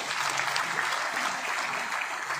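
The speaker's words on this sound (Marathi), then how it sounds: "असे artist leader Sanjay Chavan sir यांच्यासाठी एकदा जोरदार टाळ्या झाल्या पाहिजे" An audience claps steadily and densely at close range through the whole stretch, with no voices over it.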